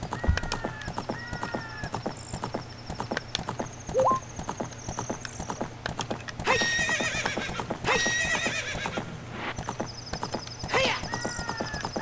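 Horse sounds in The Legend of Zelda: Ocarina of Time: repeated brisk clip-clop of hooves over a faint steady hum, broken by several loud whinnies and neighs, with bright game chimes dotted through.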